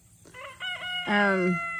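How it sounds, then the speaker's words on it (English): A rooster crows nearby, rising through a few harmonic notes to a loud, drawn-out final call. "The roosters are going to be noisy,"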